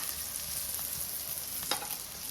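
Vegetables sizzle in hot oil in a pan, with a steady, close crackling hiss throughout and a few slightly sharper pops.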